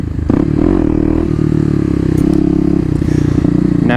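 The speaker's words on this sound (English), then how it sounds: "Now I'm just doing little wheelies here." Kawasaki KLX250 dirt bike engine held in first gear while popping small wheelies, a loud, close single-cylinder drone that surges and dips in steady pulses without a break.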